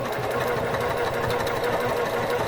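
A sewing machine back-stitches across a bag handle seam on a book reading pillow, running with a steady, close, continuous whirr and needle chatter throughout.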